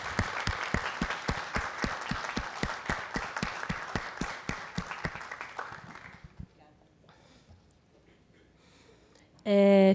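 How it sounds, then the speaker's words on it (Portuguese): A crowd at a São Paulo literary award ceremony breaks into rhythmic applause that holds steady, then fades out after about six seconds, leaving a quiet room before a sudden loud burst of noise at the end. "eu peço uma salva de palmas e emanamos o nosso amor a ela agora."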